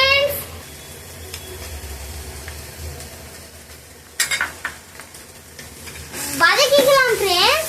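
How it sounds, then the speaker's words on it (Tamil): Spring onions and ginger garlic paste sautéing in a pan for mixed fried rice give a steady sizzle with occasional utensil scrapes and stirring clatter, while a voice speaks briefly near the end. "வதக்கிக்கலாம் ஃப்ரெண்ட்ஸ்"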